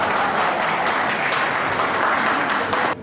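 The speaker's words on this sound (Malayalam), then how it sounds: "കുടുംബാംഗങ്ങളെല്ലാം ഹർഷാരവത്തോടുകൂടി കൈയടിച്ച് അത് പാസ്സാക്കുമെന്ന് ഞാൻ വിശ്വസിക്കുകയാണ്" Steady, loud applause from a family gathering's audience, hands clapping continuously in approval of a nomination at a Koduvath family reunion meeting, with no voices rising above it and the clapping cutting off abruptly at the very end.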